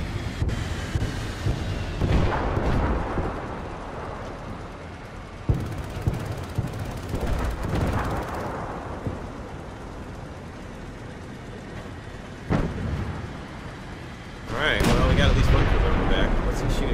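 Heavy tank cannon fire in War Thunder, several booming blasts with rumbling tails spaced through the stretch, loud and close, with a voice talking between shots.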